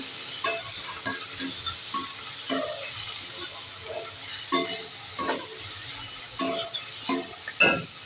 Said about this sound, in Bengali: দিয়ে এটাকে ভালো করে নেড়ে করে মশলাটা ভালো করে কষিয়ে নেব